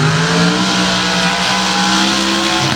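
An Outlaw Pro Stock drag car with a 788 cubic inch Ford engine and carbon fiber Bronco body, making a pass without nitrous: a loud, steady, close engine roar at full throttle, sustained and unbroken.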